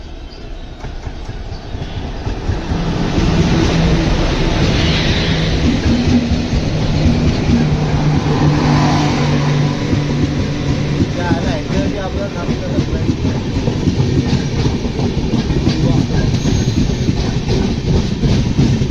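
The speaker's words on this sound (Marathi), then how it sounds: "रत्नागिरी दिवा पॅसेंजर इकडे आलेली आहे बघू शकता इकडे रत्नागिरी दिवा पॅसेंजर" The Ratnagiri–Diva passenger train on the Konkan Railway rumbles past close by, a loud, sustained roar with rhythmic clickety-clack of wheels on rails building after the first seconds.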